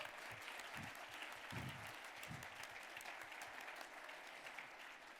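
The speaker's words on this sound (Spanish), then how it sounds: "un aplauso aquí." An audience applauds at a book presentation at the Guadalajara International Book Fair, with steady sustained clapping from many hands throughout and a few nearby louder claps near the start.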